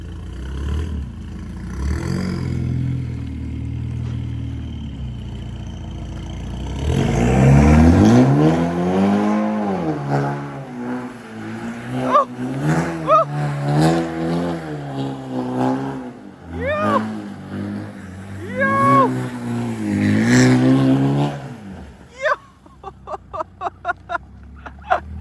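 A BMW 328 (F30) on a wet road at night does a burnout in the rain, its engine revving hard in rising and falling surges, loud and close, followed by sharp rapid popping near the end.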